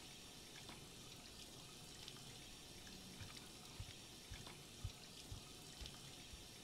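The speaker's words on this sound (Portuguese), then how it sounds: "E o barulho da torneira continua aqui na cozinha, pessoal." Kitchen faucet running steadily in the video game Life is Strange 2, a continuous hissing water stream with a few faint clicks and taps, fairly quiet and unaccompanied by talk.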